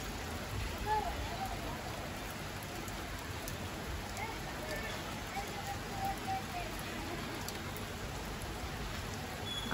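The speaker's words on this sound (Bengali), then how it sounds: "হঠাৎ করে বৃষ্টি।" Sudden monsoon rain falling steadily on surfaces, a dense even hiss with scattered drop impacts that keeps up for the whole stretch with no break.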